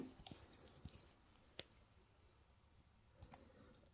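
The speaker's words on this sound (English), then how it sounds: "cut that wire at both ends" Jewelry wire snipped with wire cutters while making a wire-wrapped pendant: a few faint, sharp clicks scattered across a quiet background, with one crisp snip standing out alone.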